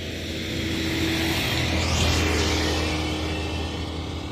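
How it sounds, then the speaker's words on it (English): Truck passing on the highway on the east side of Glacier National Park, heard from inside a moving vehicle as a low engine rumble and rising rush of air that peaks midway and fades. "Okay, that was a truck."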